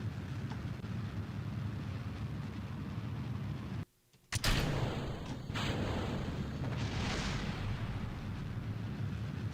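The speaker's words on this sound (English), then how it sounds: "Something just blew up." An explosion in Kerbal Space Program: a sharp blast after a brief dropout, then a rumbling roar over the constant loud rocket-engine drone, with no talking.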